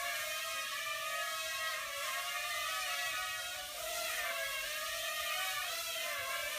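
An X7 quadcopter drone flying indoors around a kitchen gives a steady high-pitched whirring buzz whose pitch wavers as it banks and turns, moderately faint.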